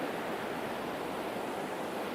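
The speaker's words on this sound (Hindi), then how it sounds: "ये देखिए किस तरह से पानी का बहाव है, पानी का बहाव किस तरह से गूंज रहा है पानी।" A river fed by mountain snowmelt in Kashmir rushes steadily nearby, a dense, unbroken roar of flowing water with no voices.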